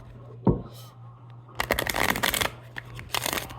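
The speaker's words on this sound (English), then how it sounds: "This deck is hard for me to shuffle." A deck of cards is shuffled by hand, a short flick followed by two bursts of riffling close by.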